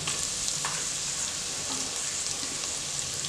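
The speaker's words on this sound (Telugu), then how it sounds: "ఇవన్నీ మనం మంచి మిక్స్ ఇచ్చి ఒక 5 మినిట్స్ కొంచెం ఫ్రై చేసుకుందాము" Carrots, beans, potatoes and other vegetables fry in oil for a catering-style vegetable pulao, a steady close sizzle with a couple of soft stirring knocks and no talking.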